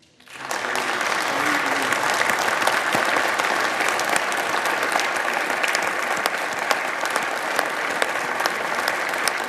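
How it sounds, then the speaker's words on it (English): Sustained, dense applause from a Senate chamber crowd giving the Vice President a standing ovation, rising quickly at the start and holding steady throughout without speech. "the Vice President received a round of applause and a standing ovation"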